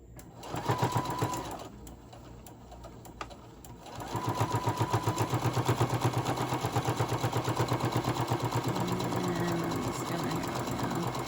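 Sewing machine stitching along the edge of a casserole-size Christmas hot pad, a rapid rhythmic mechanical chatter that starts briefly, pauses, then runs steadily and loudly up close.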